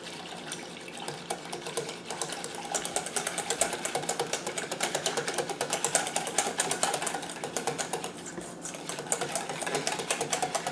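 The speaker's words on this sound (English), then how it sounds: "I usually take a wire whisk to help blend it" Cream cheese for a layered jello salad being blended with a wire whisk, producing a rapid, rhythmic clicking and rattling against the bowl that continues steadily and close throughout.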